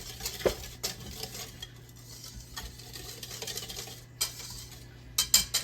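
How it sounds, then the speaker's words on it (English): A spoon stirs sugar into a peach cobbler crust mixture in a bowl, soft scraping strokes with a few sharper clinks of utensil against the dish, close and quiet, no speech. "We're going to mix that up together"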